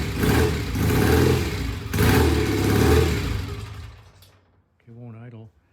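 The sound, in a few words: vintage British motorcycle engine running after kick start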